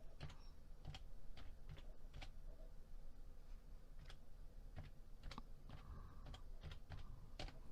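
Keys clicking on a computer keyboard in short irregular bursts and single presses, including Enter strokes, fairly quiet against a low room hum, with no one speaking.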